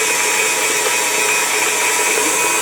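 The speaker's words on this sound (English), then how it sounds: "I'm going to turn on the mixer again and let it mix for another 2 minutes on like medium speed" An electric mixer whirs at medium speed through buttercream frosting, a loud, unbroken motor drone with a gritty mechanical edge, steady from start to finish with no talking.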